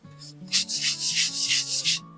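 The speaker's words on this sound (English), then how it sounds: "Just gonna touch it up with the sanding block like I did with the drawers and the doors." Steady back-and-forth scraping of a sanding block hand-sanding wooden furniture, rhythmic strokes repeating close by, with a low musical hum underneath.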